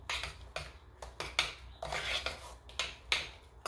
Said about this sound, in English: I'm just gonna mix that right inside